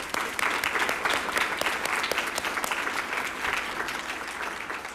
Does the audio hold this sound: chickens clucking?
no